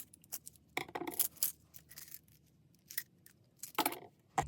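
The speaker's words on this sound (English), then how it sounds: "you are going to cut your yarn and weave in the end" Scissors snip through yarn while finishing a crocheted head wrap border, with a few quiet, sharp cuts and clicks spread across a calm, otherwise hushed background.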